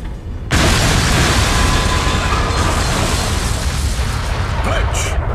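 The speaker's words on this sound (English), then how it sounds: "grenade!" A grenade blast in the Xbox shooter Metal Arms erupts with a sudden loud boom after a brief quiet moment, followed by a sustained rumbling roar that slowly fades over several seconds.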